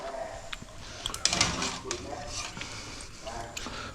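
Pork chicharrones frying in a mix of coconut oil and tallow, a close bubbling sizzle with stirring scrapes and a few metallic clinks of a utensil against the pot.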